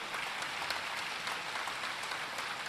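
A large crowd at a Divya Darbar religious gathering in Fiji claps vigorously and continuously, a thick, even wash of applause that fills the space with no voices standing out.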